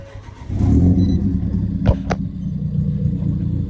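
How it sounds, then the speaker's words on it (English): A Ford Fiesta ST engine turns over and catches, settling into a loud, close, steady idle rumble, with a couple of sharp clicks shortly after it fires. "maybe we start the car instead."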